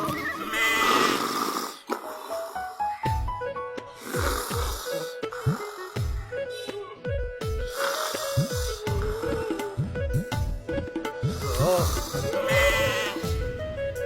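Snoring from a sleeping man stretched out indoors in a domestic drama scene, with goat bleats mixed in, heard as rough repeated breaths over a busy background with music-like tones throughout.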